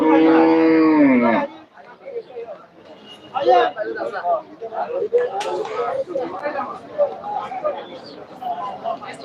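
Cattle at the Hathazari cow market in Chittagong, with a long loud moo up close at the start, followed by a busy hubbub of people talking and crowd noise around the market.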